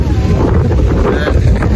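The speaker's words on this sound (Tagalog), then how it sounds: "Ang lakas kasi ng hangin dito, nasa gilid kami ng dagat ngayon." Strong wind gusting by the sea at Infanta, Quezon, a loud, steady roar buffeting the microphone with a low rumble throughout and no clear voices.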